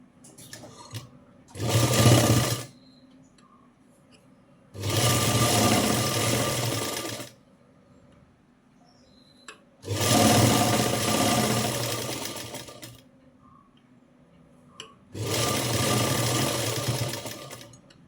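A sewing machine stitches a puff sleeve in four long, loud bursts of about two to three seconds each, separated by short quiet pauses, with no talking.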